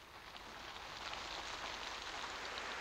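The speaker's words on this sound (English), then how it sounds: "It's raining!" Steady rainfall, a close, even hiss of drops on surfaces that holds at one level throughout, with no voices.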